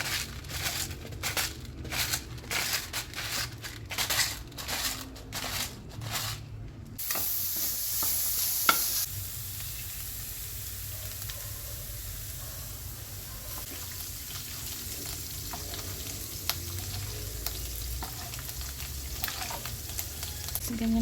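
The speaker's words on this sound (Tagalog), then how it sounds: "ilalagay na natin yung beef giniling natin and we'll let it cook in its own mantika" Ground beef cooks in its own rendered fat in a pan, first with rhythmic scraping and stirring strokes, then settling into a low, steady frying hiss with occasional small pops, heard close and without talk.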